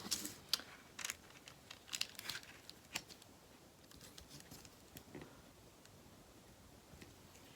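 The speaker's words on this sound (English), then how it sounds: "I'm going to cut that edge off." Scissors snip and paper crinkles while an edge is trimmed off a paper tag for junk journaling, a string of soft close cuts and rustles that thin out toward the end, no voices.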